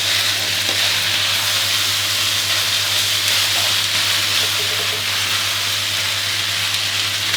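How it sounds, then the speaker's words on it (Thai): Yakisoba noodles with pork are stir-fried in a hot pan, a loud continuous close sizzle with scraping stirs and a steady hum beneath, no talking. "ก็เป็นยากิโซบะครับส่ลงไปได้เลย ผัดดีๆ ให้ทั่วเลยครับ"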